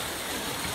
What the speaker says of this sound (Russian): Вот такой водопадик для вас нашел.